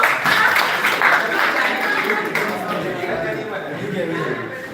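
Clapping from an audience at a university outreach gathering, a dense steady patter lasting several seconds, with background chatter mixed in beneath it.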